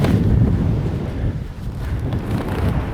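Strong coastal wind in A Coruña, Spain buffets the microphone with a close, steady rumble of gusts and no talking.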